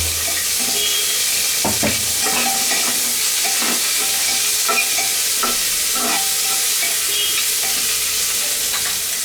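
Ginger and green chilli frying in a hot pan, a loud steady sizzle broken by repeated stirring scrapes at an uneven pace, close and without voices.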